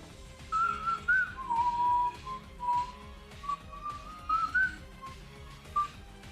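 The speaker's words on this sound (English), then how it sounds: "At most, you're gonna hear me whistle to a music or humming to a music." Someone whistles a wandering tune in short melodic phrases, fairly close, over a quiet background of soft music.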